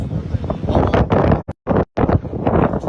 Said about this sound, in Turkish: aşırı şiddetli rüzgar var